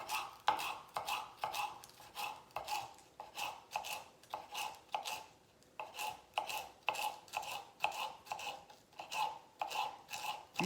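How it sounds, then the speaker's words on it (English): Boning knife cutting through food on a board, a steady series of crisp, regular strokes roughly every half second, close and fairly quiet with no talking. "I'm using a boning knife."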